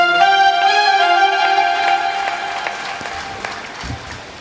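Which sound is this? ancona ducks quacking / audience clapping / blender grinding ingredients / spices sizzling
audience clapping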